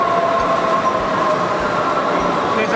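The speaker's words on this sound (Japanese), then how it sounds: "電車来ました。" A train rumbles steadily close by in Germany, a constant roar with a faint high whine, like a rail car pulling alongside a platform.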